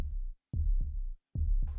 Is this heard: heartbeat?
yes